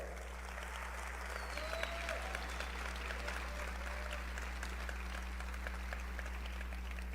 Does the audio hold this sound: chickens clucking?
no